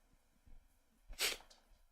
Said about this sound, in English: Don't replay me sneezing.